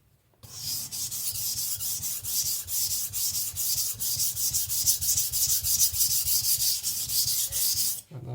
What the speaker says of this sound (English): the stone cuts pretty good